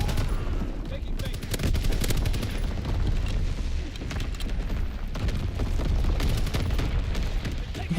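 Grenade blast and dense rapid gunfire in the World War II shooter game Call of Duty WW2, loud and continuous with repeated bursts, a voice talking briefly over the battle.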